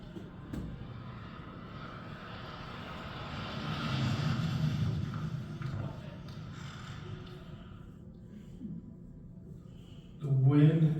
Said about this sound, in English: what it's like to be nearby when a speed skier goes rocketing past